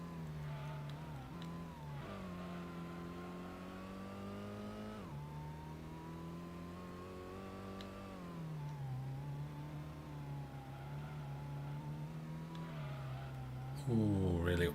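A race car engine in the video game Gran Turismo revs steadily, its pitch stepping up and down through gear changes over a sustained drone, with a louder burst at the very end.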